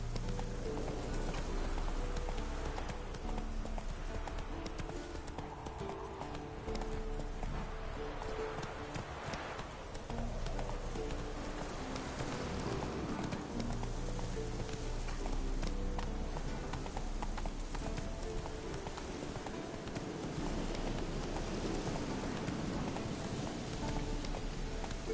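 Horse hooves gallop steadily through a PS4 video game, a fast continuous drumming of clops under a dense, rain-like wash of game sound, with a player urging the horse on at points.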